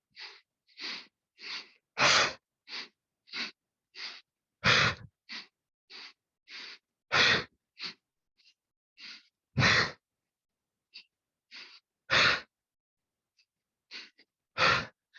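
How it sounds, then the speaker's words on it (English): Rhythmic breathing during a yoga exercise: a run of short, sharp inhales through the nose punctuated every few seconds by a longer, louder exhale, repeated steadily and close up with no talk. "Inhale, inhale, inhale, exhale."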